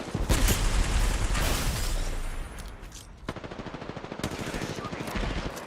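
Gunfire in a shooter video game: loud, rapid bursts of automatic fire rattle close by, pause briefly, then resume as a tight machine-gun-like stutter with mechanical clicks, with no voices over it.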